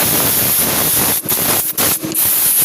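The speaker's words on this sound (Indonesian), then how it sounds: "kita semprot seperti ini" A spray cleaner is blasted onto the cylinder block of a Yamaha Jupiter Z1 motorcycle engine, making a loud, steady hiss that breaks off briefly three times before resuming, with no talking.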